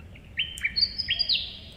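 Willy wagtail calling outdoors, a quick run of clear, high chirping whistles, fairly close and alone for under two seconds.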